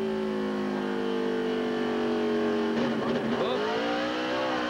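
A NASCAR Craftsman Truck Series truck at Milwaukee spins at full throttle without braking, its engine holding a steady high drone before a surge of tire squeal and wavering revs as it slides, heard from a distance over track ambience.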